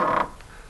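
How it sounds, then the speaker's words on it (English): An old wooden nightingale floor built to warn of intruders, giving a single short creak as it is stepped on, close and clear with nothing else heard. "It's what they call a nightingale floor. Relic of the old days when people wanted to be warned of intruders."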